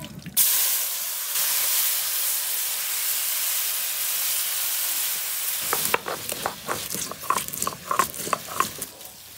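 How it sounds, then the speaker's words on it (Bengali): Hot oil hisses and sizzles steadily in a wok on a village kitchen stove, ready for frying hand-marinated chicken; partway through, sharper crackling spatters and pops break out as food hits the oil, with no talking. "কড়াই গরম হইছে, মুরগি ভাজুম, তেলটা দিলাম।"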